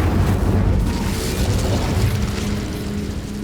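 A roaring fiery blast from the Incendio spell in Hogwarts Legacy, a loud sustained whoosh of flame that fills the whole moment and slowly eases off, with no talking.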